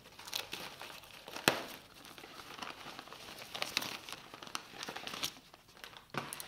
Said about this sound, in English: Next step is to unwrap right where I taped it.